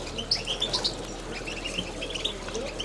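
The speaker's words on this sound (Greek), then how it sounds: "Πολύ ωραία περιστέρια." Diving pigeons in Kozani, Greece, give off scattered high chirps and short calls with faint wing flutters over a quiet outdoor background, the sounds coming in brief bursts at a moderate distance.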